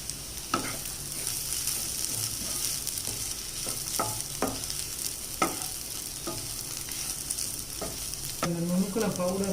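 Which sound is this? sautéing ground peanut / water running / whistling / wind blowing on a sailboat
sautéing ground peanut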